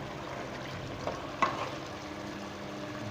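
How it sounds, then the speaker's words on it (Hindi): Sliced radishes stirred into cooked spinach in a pot, a soft steady sizzle with a couple of faint scraping clinks of the spoon, close and quiet. "अभी इसको मैं अच्छे से मिक्स कर लेता हूँ पालक में।"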